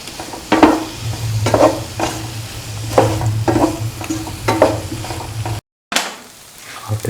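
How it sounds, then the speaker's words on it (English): Beans and tomatoes sauté in a pan, with steady sizzling under repeated scraping stirs that come in regular strokes. A low steady hum runs underneath, and the sound drops out briefly near the end. "Thoroughly saute and mix."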